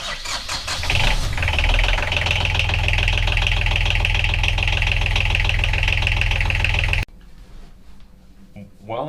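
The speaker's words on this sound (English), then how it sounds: "Let's fire up this engine and see if that's the culprit." A boat engine is test fired and runs loud and rough with a dense, rapid mechanical clatter close by, then cuts off abruptly, leaving near quiet.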